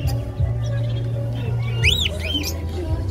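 Songbirds at a bird market chirp and whistle in quick rising-falling notes over a steady low hum and background noise.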